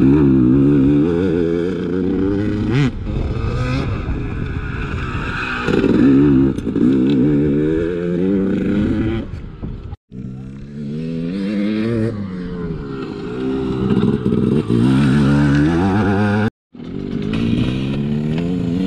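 Dirt bike riding through ruts with the front brake lightly dragged, its engine loud and close throughout, rising and falling in pitch with revs and briefly cutting out twice.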